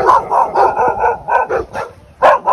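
Several dogs bark loudly and close by in quick repeated bursts, a short gap before a final sharp bark, in a spot with a large dog population.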